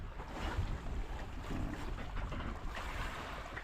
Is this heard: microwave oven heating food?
no